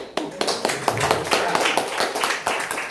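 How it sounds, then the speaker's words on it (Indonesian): A small group clapping, with sparse, uneven claps building into a brief, moderately close patter that continues to the end. "Ya. Tepuk tangan dong."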